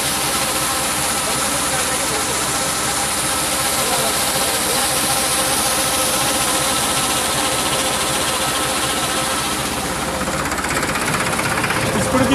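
A Forward pump engine made by Prabhukrupa Industrial Corporation of Rajkot runs close by with a loud, steady, rattling drone that keeps going unchanged for the whole stretch.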